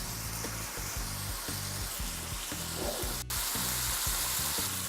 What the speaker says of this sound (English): The beef's been cooking in the sauce now, and the beef's just nearly done.